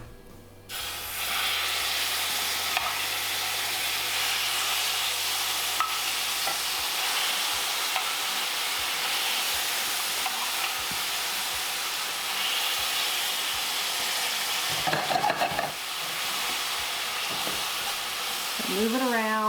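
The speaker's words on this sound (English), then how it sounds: "Now I'm gonna put the marinade on, and we're gonna just move it around and turn it so all sides get coated" Vegan bacon strips frying in a pan as marinade is poured over and stirred, giving a loud, steady sizzle and hiss that runs throughout, with brief scraping stirs and a voice speaking near the end.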